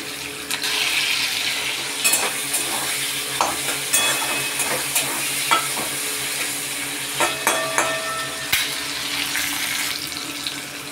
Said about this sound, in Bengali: পেঁয়াজগুলো বেশ একটু ভাজা হয়ে যাক।